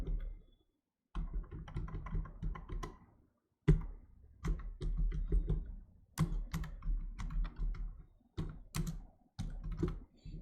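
Typing on a computer keyboard while entering text in a design app, close and clear bursts of rapid key clicks separated by short pauses, with no talking.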